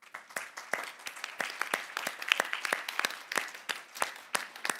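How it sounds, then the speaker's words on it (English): Conference audience applauding panelists at the HCCH Asia Pacific Week in Seoul, a modest round of scattered hand claps from a small crowd, fairly quiet and steady. "Please join me in giving them a big round of applause."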